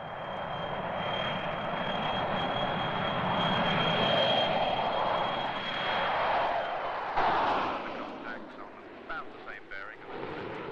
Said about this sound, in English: The Nimrod maritime patrol aircraft is used to detect and track submarines at long range from the force.